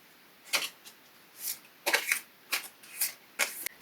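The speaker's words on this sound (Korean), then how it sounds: "이런 2020년을 정리할 수 있는 카드를 한 장 뽑아보도록 할게요" Tarot cards are shuffled and drawn in a series of crisp, quick riffling bursts, close and clear in a quiet room, with no talking.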